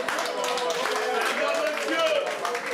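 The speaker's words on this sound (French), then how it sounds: "on applaudit pour Petit Pays" Audience applauding at the Bendskin Club, steady dense clapping throughout, with crowd noise and some voices mixed in.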